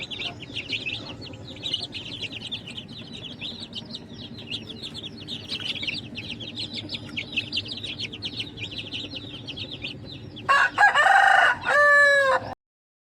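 Continuous high chirping of Bhimavaram chicks fills the background, then a loud rooster crows close by near the end.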